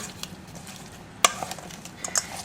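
Berries are tossed with a wooden spoon, giving soft, close stirring and rustling with one sharp click partway through and a few light knocks near the end.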